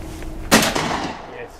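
A single shotgun blast during a duck hunt, a sharp loud crack that leaves a short fading echo, with a faint background hum before it.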